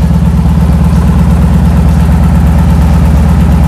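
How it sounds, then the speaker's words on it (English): A 2007 Victory Vegas motorcycle engine idles loud and close, a steady deep rhythmic thumping that runs without a break and with no talk. "Okay, so we got the bike running."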